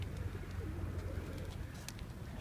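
Low pigeon coos in Karabük, Turkey, murmur faintly over a constant outdoor rumble, with a few light ticks scattered throughout.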